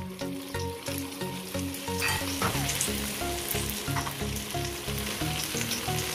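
Mutton pieces for a spicy goat-meat gravy fry and sizzle steadily in a hot pan, a dense continuous crackle with repeated scraping strokes as the meat is turned, close and fairly loud with no talking.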